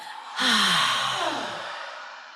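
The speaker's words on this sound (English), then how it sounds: "Open up your mouth and exhale audibly." A deep audible exhale through an open mouth during a guided breathing exercise, one long breathy sigh starting abruptly after a quiet moment and slowly fading away, heard close and alone.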